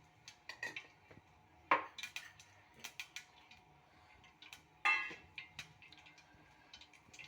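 Mustard seeds spluttering in hot oil in a home kitchen pan, with faint, irregular crackles and pops and two louder bursts among scattered small ticks.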